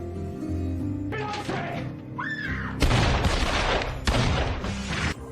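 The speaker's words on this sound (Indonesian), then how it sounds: "terdengar suara tembakan" Bursts of gunfire crack and boom in quick volleys among western film sound effects, with a brief voice and whistling tones between shots.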